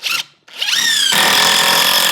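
A power drill drives screws into glued wooden soffit framing: two short whirring bursts, the second rising in pitch, then a sustained loud, close motor whine with no talking.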